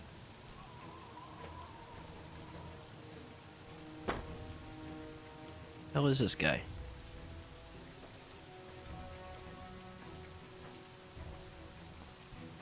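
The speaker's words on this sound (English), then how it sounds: "Guess I should probably turn the rain off." Soft, steady patter of rain in the game Fallout: New Vegas, faint and continuous, with a couple of brief louder bursts partway through and a short spoken line from someone nearby.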